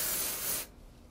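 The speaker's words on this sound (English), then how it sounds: "So once again, spray the hair." A short, close burst of dry shampoo sprayed onto hair, a bright hissing blast that cuts off abruptly after about half a second, leaving faint room noise.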